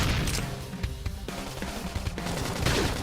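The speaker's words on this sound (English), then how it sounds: "Knock him over with gunfire." Rapid gunfire and crashing impacts from combat in the video game Xenoblade Chronicles X, a dense, loud burst of shots running continuously throughout.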